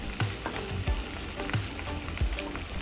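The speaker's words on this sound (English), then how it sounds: "after around 20 seconds, I'm throwing back the fried onions" Fried onions sizzle loudly in hot oil with melted sugar for a Uyghur lamb polo, with steady frying crackle and rhythmic scrapes of stirring close by.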